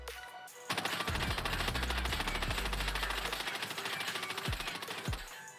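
Bruen rifle firing in Call of Duty, a sustained rapid burst of gunfire lasting several seconds after a brief quiet start, loud and close with a steady mechanical rhythm and low thumps.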